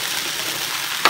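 Rice with chickpeas, turmeric and vegetable seasoning being stirred in a pan, a steady close sizzle of frying with soft scraping throughout and one brief louder scrape near the end.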